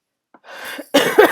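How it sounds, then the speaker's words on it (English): A person with sinus congestion and allergies coughs close to the microphone: a faint breathy lead-in, then two sharp, loud coughs in quick succession. "Now I'm going to cough."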